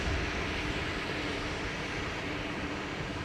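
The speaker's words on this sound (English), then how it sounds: "Another ATR this time to Edinburgh." An ATR turboprop departs Dublin Airport for Edinburgh, producing a steady, fairly faint broadband engine drone throughout with no voices.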